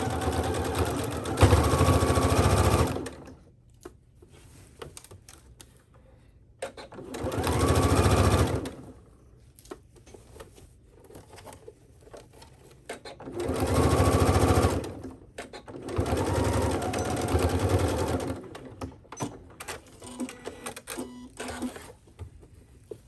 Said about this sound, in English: go ahead and stitch this.